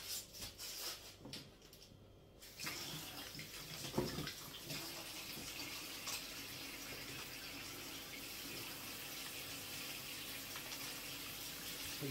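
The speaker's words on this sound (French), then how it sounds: "je vais rincer mes mains." Tap water runs steadily into a sink as hands are rinsed, a soft continuous splash with a brief shift in flow early on; no one speaks.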